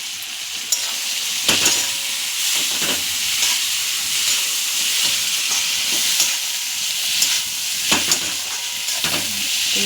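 Homemade stuffed green chillies (bharvi mirchi) with homemade garam masala sizzle in a pan, a continuous close frying hiss broken by occasional clinks and scrapes of stirring; no one speaks.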